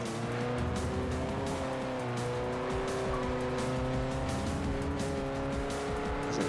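An AutoWorks Storia car driving in the racing game Forza Motorsport 4, a steady low engine drone with shifting tonal whine and occasional tire squeal, continuous and fairly loud throughout.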